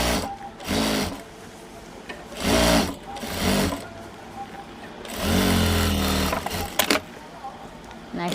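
A sewing machine stitches a blouse hem in short bursts of close, rapid whirring, separated by pauses filled with rustling fabric and handling noises.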